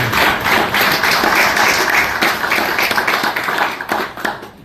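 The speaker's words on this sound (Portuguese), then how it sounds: "eu peço para ela uma salva de palmas" Sustained applause from a crowd at a Socialist Party district federation event in Guarda, a dense steady clatter of many hands clapping at once, loud and continuous throughout.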